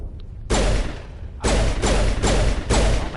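Gunfire from shooting in the video game Mass Effect: four loud, heavy blasts at steady intervals, each a booming burst that rings out briefly before the next, with no talk.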